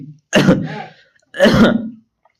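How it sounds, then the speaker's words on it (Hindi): Two separate rough throat-clearing coughs, close and fairly loud, with a short pause between them and no talking. "खांसी होने लगा"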